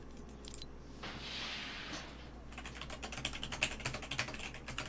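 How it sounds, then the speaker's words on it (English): Fast, uneven typing on a mechanical keyboard, the keystrokes clattering in dense bursts that grow louder and busier toward the end, with a brief hiss early on and no talking. "It's a mechanical keyboard."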